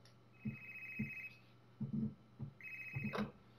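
A telephone rings in a crêperie with two bursts of a trilling electronic bell, each followed by a short pause. The rings are fairly quiet and sound slightly distant, with no talking.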